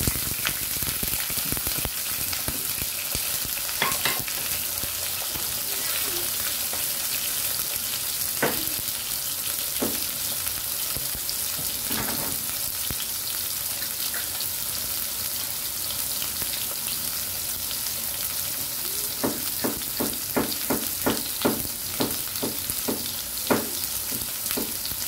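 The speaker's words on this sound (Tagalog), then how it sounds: "Fry natin ang ating hipon." Shrimp sizzles and crackles in hot cooking oil with garlic, a steady loud frying hiss broken by sharp pops and clusters of clicking stirs and utensil taps.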